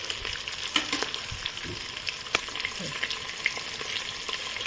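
Steady crackling sizzle of cardamom frying in hot oil for tempering, with a few sharp clinks and scrapes of a utensil against the pan.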